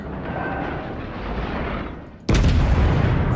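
Main guns of the battleship Texas firing in a video game: a rumbling engine and sea bed gives way to a sudden heavy broadside boom that keeps roaring loud to the end.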